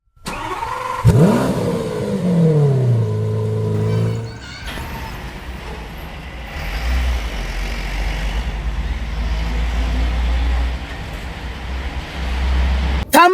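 A car engine starts and revs hard, its pitch sweeping up and down, then settles into a lower, steady drone as the vehicle drives, loud and close throughout.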